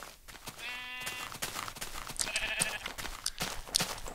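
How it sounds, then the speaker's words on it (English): Sheep in the video game Minecraft bleat, with a clear harmonic bleat near the start and a second shorter one midway, set against steady background game noise and no speech. "I kill some sheep, get some wool so I can make a little bed."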